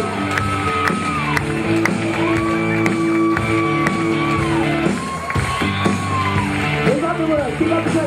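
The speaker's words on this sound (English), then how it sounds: "Everyone, big cheer." Wedding guests at a reception cheer and shout together in a loud, sustained crowd roar, with music playing steadily underneath and a few individual yells rising above the noise.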